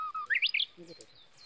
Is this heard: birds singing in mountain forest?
yes